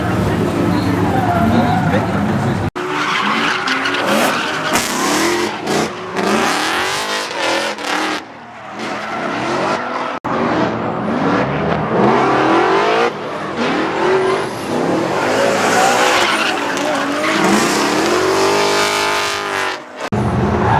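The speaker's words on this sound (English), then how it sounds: "My boy Ricardo, he's starting the slide in the 330Z" A Nissan 330Z drift car sliding through a corner, its engine revving loudly with rising and falling pitch and tyres scrubbing, recorded from inside, with voices talking over the noise throughout.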